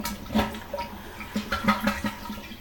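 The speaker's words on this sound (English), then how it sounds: "Okay, let's flush the toilet." A household toilet flushes in an echoing bathroom, a close, loud rush of water with gurgling pulses that swells and recedes over a few seconds, no voices.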